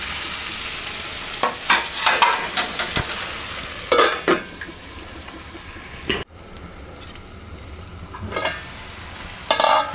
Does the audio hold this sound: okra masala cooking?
yes